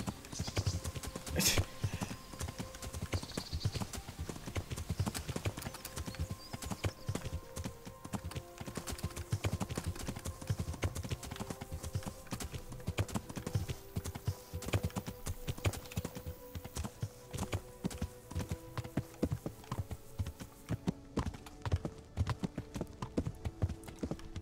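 Horse hooves clip-clop steadily in the medieval game Kingdom Come: Deliverance, a continuous rhythmic trot running throughout with game music tones layered over it.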